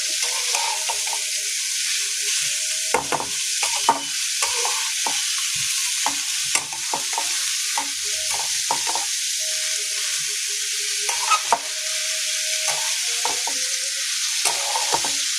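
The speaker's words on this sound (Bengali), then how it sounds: "এটাকে আমি একটু ভালোভাবে নেড়ে নেবো।" Bottle gourd peel and potato are being fried, with a spatula stirring and scraping the pan in quick repeated strokes over a constant bright sizzle, close and loud, with no speech.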